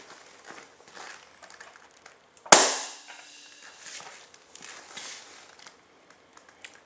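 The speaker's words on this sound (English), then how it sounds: "We're going to try this shot at 700 psi." A single sharp airgun shot at 700 psi cracks loudly and decays quickly, surrounded by faint handling clicks and shuffling.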